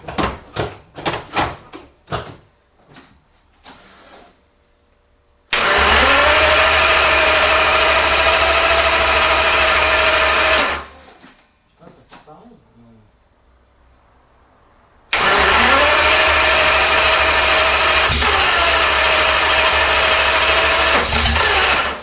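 A Ferrari Testarossa's flat-12 engine under restoration cranks in two long, loud sustained bursts, each about five seconds, after a series of mechanical clicks. A voice briefly speaks between attempts.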